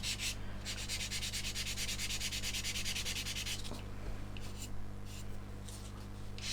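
A coarse orange sanding stick rubs steadily over a model's surface as CA glue and talc filler get smoothed, giving a continuous close scratchy rasp that pauses briefly partway through and then resumes in shorter strokes.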